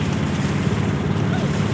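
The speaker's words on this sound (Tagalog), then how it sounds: "Laki ng alon! Grabe!" Big waves surge against a small fishing boat at sea, a steady heavy rush of water churning with strong wind buffeting close to the microphone.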